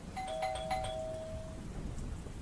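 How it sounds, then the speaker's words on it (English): A two-tone doorbell chimes once inside a house, its clear ringing tones fading over about a second above a steady patter of rain and low rumbling. "the doorbell rang again"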